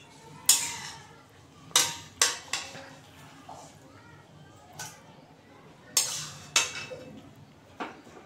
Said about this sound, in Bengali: এইবার শাকটাকে আমি অন্য পাত্রে ঢেলে নেব।